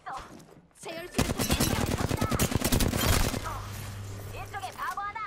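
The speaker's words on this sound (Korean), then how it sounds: "놈들이 날 쏘고 있어" Sustained rapid automatic gunfire from Apex Legends on the Storm Point map, a dense loud burst of shots lasting a couple of seconds, followed by lower in-game rumble and effects.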